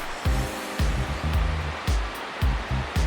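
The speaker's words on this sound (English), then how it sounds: "Nice little waterfall there." Small waterfall on Evolution Creek in the High Sierra mountains along the John Muir Trail, a steady rushing wash of water heard up close with no voices, broken by repeated low thumps that are probably wind or handling noise.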